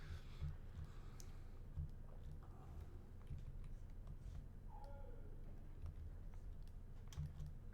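Quiet computer keyboard typing during a digital sculpting session, with irregular soft key clicks scattered over a low steady hum, faint and close. A brief higher chirp-like sound passes midway.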